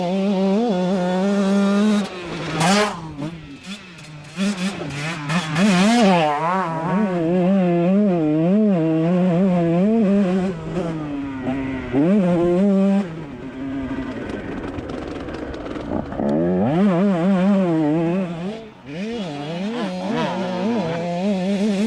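A 2025 KTM 125 fuel-injected two-stroke dirt bike rips a hot lap on a hard-pack track, its loud engine wailing up and down through repeated revs and shifts, close by and continuous with no talk.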